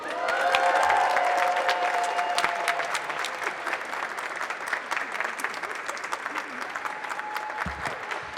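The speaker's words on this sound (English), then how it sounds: "please give her a big round of applause, like only we know how to do, to our mayor" Crowd applause for the mayor at a Mexican Independence Day El Grito celebration at the consulate, a dense, steady roar of many hands clapping with some cheering that swells early, then holds at a fairly even level.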